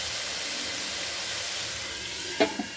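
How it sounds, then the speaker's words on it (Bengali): Sweet potato fries in a covered pan over a high flame, giving a steady, even sizzling hiss throughout, with a brief clink near the end. "এখন এটা একটু ভাজতে দেবো মিষ্টি আলুটা"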